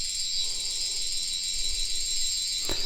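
Toy sonic screwdriver gives a continuous high, buzzing electronic whine at steady volume, ending with a short click near the close.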